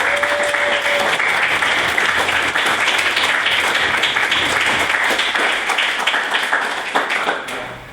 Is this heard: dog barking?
no